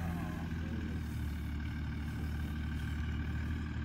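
A 2nd gen 24V Cummins diesel in a pickup truck idling, a steady low rumbling drone with a deep throb, close and constant with no voices.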